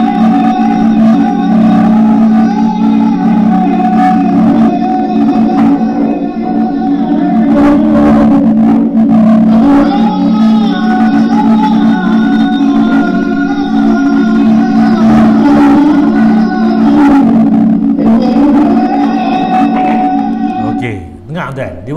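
A recorded call to prayer resembling the Islamic adhan, played in a mosque setting: a sustained, melismatic chanting voice with steady harmonic tones, loud and continuous for about twenty seconds, ending abruptly.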